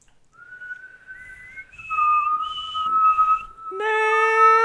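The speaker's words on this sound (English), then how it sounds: "just whistle" A person whistles a short melody, clear and close, with sustained notes that step up and down, ending on a brighter held tone.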